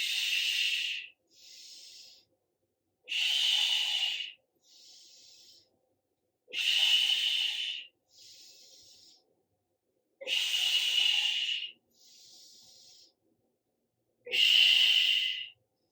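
Slow, regular breathing during a Pilates core exercise: long airy exhales alternate with shorter, softer inhales. Five full breath cycles, close to the microphone, with silence between them.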